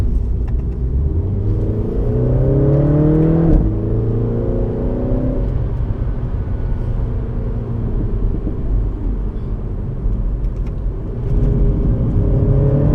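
A Mini Cooper S is driven hard along a private mountain road in Mexico, with a steady loud engine roar whose pitch climbs and drops through gear changes over rumbling road noise.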